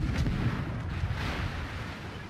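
Heavy naval gun salvos booming in a World of Warships battle, a dense run of loud, overlapping blasts and rumbling reports filling the whole short stretch with no voice over it.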